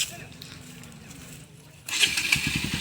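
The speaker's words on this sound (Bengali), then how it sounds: "বাইক স্টার্ট করলেছে এখন ঘুরে যাইতেছি গা বাড়ির ভিতরে।" A motorcycle engine sputters to life after a quiet stretch, settling into a rapid, throbbing idle nearby.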